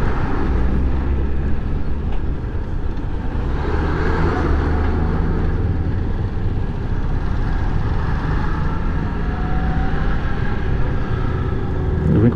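A 2001 Honda Titan 125 ES motorcycle cruising along an expressway highway, its engine drone steady and close under heavy, constant wind rush throughout, with no pauses.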